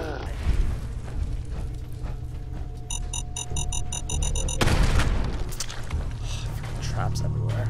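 Trap explosions in the Fallout 4 video game go off as deep, rumbling booms over a busy game soundtrack, with a bright metallic chiming passage midway and voices heard throughout.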